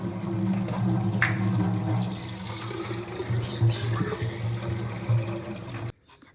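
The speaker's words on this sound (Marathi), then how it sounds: "आणि ना या बॉटलमध्ये आपण पाणी भरून घेऊया" Water runs from a tap into a bottle as a steady, close splashing hiss over a low hum, stopping abruptly near the end.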